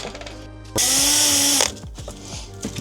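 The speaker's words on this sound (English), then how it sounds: "just drilling into a bag just to stop bits flying all over his boat" A power drill bores through a bag on board a Jeanneau 41 sailboat, a single loud burst of steady whining lasting under a second, with quieter handling clatter before and after.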